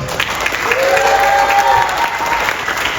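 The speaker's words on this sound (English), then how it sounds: "Give him a big round of applause." An audience at a motorcycle show featuring a 1928 Indian 101 Scout breaks into loud, dense clapping that carries on steadily, with crowd murmur mixed in.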